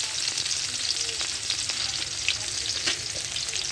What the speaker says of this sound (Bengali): আমি আস্তে 5 ফোড়ন দেবো,